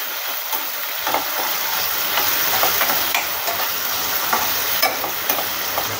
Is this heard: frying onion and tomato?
yes